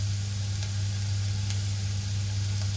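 Onions frying in a pan for veg kofta, a steady, continuous sizzle with a low electrical hum underneath and occasional faint clicks of stirring.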